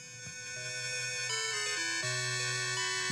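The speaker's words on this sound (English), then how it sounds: "You're going to recognize this if I play the old classic MIDI music." Classic MIDI music from an old mobile video game plays as a bright, steady synthetic tune of stepping tones, like a ringtone, loud and continuous with no talking.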